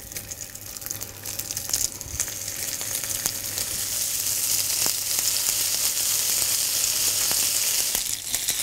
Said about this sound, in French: Nous avons mis une poêle à chauffer avec de l'huile d'olive. Nous allons colorer les tranches de lard.